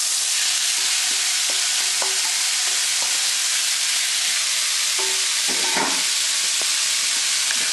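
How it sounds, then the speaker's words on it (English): Shrimp frying in oil in a pan over low-medium heat, a steady broadband sizzle filling the clip, with faint scrapes and taps of stirring scattered through and a brief louder burst near the end. "now I've got my oil in my pan, low-medium heat. I've increased it just a little bit. And now I'm going to go ahead and add my shrimp to this"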